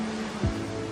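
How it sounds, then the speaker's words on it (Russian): Sea surf rolls onto a sandy shore as a steady, soft wash of noise with one brief low swell in the middle. No voices are present. "И чем лучше вы слышите морской прибой"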